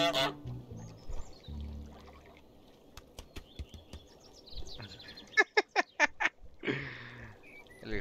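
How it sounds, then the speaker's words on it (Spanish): Honks and quacks from the goose in Untitled Goose Game, a cartoonish bird voice in a quick burst of several sharp calls, with scattered clicks, splashy pouring noises and light game effects around it. "El ganso."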